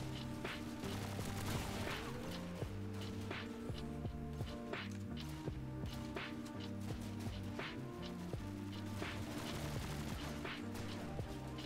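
Rapid gunfire and explosions from Call of Duty 2 multiplayer, dense and continuous bursts over game music and ambience, with sharp repeated shots throughout.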